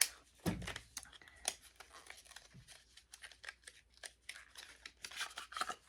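Scissors or a blade cut open a sealed plastic product package in a series of close, snipping and rasping cuts, with faint crinkling between them.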